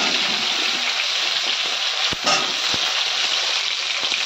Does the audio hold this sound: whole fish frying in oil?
yes